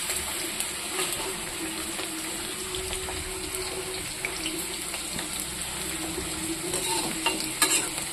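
Okra frying in a pan with tomato, a steady dense sizzle with occasional stirring scrapes running continuously and fairly loud, no voices.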